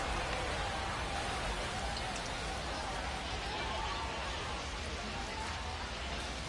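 Steady, dense hiss of rain falling on a baseball field in MLB The Show 25, continuous and even with no breaks, forming a constant wash of sound.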